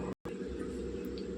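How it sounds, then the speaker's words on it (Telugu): A mixer grinder whirs steadily as it grinds ivy gourd and curry leaf chutney. After a brief cut, a loud, close, continuous motor drone follows. "మిక్సీ పట్టుకుందాం ఇప్పుడు."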